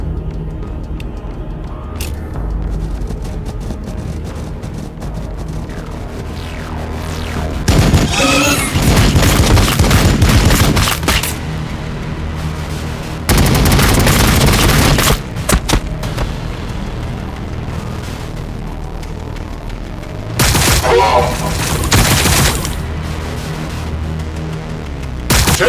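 Battlefield gunfire and heavy booms in Warhammer 40K Battlesector, coming in loud bursts of a few seconds each over a constant low rumble, with quieter stretches between volleys.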